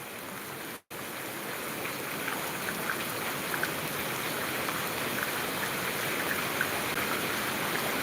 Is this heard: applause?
no